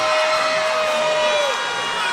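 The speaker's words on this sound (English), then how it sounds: "And this blackout crowd loving every second of it." A blackout home crowd cheering at an Azusa Pacific men's college basketball game against Biola, a loud roar of whoops and shouts filling the arena, with a whistle-like tone briefly cutting through.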